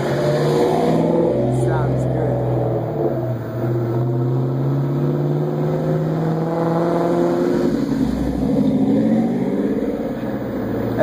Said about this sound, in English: there's over 100 cars coming through.